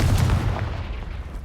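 Short explosive boom of a Confringo fire spell in Hogwarts Legacy, a single loud blast at the start that fades into rumbling low noise within about a second.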